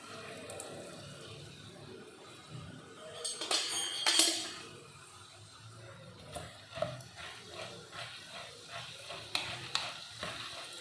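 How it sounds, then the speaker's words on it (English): Fried gram sizzling in hot oil for avarekayi mixture, with a steady frying hiss, brief louder bursts of stirring, and light clinks of a utensil against the pan, no voices. "Fry it till it turns pink."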